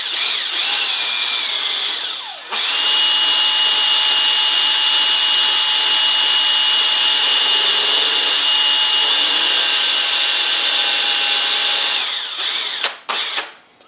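A power drill whines steadily at high speed, stopping briefly and restarting for a long continuous run, close and loud, ending with short bursts.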